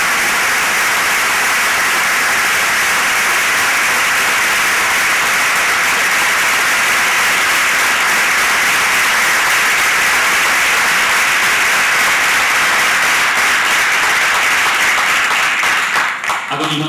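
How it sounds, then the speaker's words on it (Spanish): A large audience at an honorary doctorate ceremony applauds continuously and loudly, a dense unbroken roar of clapping that stays steady before easing slightly at the very end. "te aplaudimos infinitamente"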